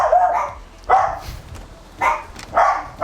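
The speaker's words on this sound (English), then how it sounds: "Oh, lots of dogs." Several dogs bark close by in short loud bursts, a cluster of yaps near the start and more volleys around one, two and two and a half seconds in, with quieter gaps between.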